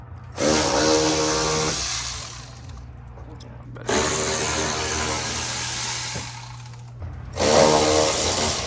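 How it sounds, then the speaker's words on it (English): An electric ratchet drives bolts during an F8X mod install, giving three separate whirring runs of one to three seconds each, close and loud, with short quiet gaps between. "Got an electric ratchet donation."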